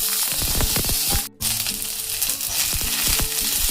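Onions fry with ginger and garlic in a hot pan, giving a loud, close sizzle with scraping stirs and a brief gap partway through.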